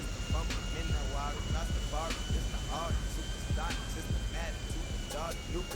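A business jet flying low in GTA Online gives off a steady, even engine roar that runs the whole time beneath someone talking continuously.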